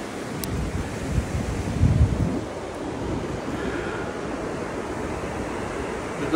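Sea waves break on a beach in a steady roar of surf with wind buffeting the microphone, swelling a little midway and then rolling on evenly.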